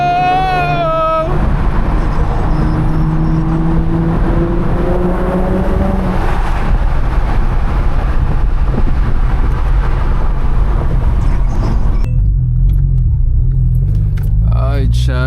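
A twin turbo Audi engine heard from inside while driving, a loud steady roar and rumble throughout with rising tones early on, and a voice talking over it for part of the time.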